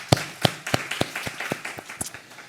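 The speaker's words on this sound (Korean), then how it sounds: "우리 하나님께 영광의 박수 올려드립니다." Congregation clapping in church: a run of distinct, evenly spaced hand claps, sharp and fairly close, starting strong and loosening into a lighter, quicker patter with some overlapping hands.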